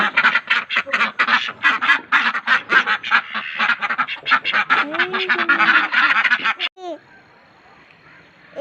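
Many ducks quack loudly in a crowded, overlapping chorus that cuts off abruptly, leaving faint background noise.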